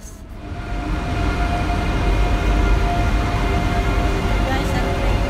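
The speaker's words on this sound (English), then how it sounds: "Ito guys, ang train." A train at a Monaco railway station builds a steady roar and holds it, a broad rumbling rush with faint tonal hum, heard from nearby without clear talk.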